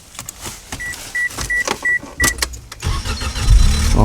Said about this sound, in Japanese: さあ、エンジンはかかるでしょうか。